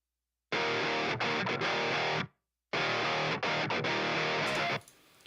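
Heavily distorted electric guitar through a Helix Marshall Brit 2204 emulation with a Tube Screamer in front, into Cali V30 4x12 cabinet miked with a 57: two loud sustained chugging riff bursts with brief choked gaps, then a short pause.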